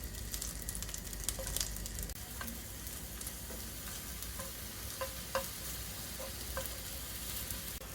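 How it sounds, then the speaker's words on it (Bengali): Mushrooms frying in butter in a pan give a steady, close sizzle throughout, with light scattered clicks and pops of stirring on top and no voices. "আর একটা প্যানে নিয়ে নিচ্ছি বাটার, দিয়ে দিলাম একটু মাশরুম"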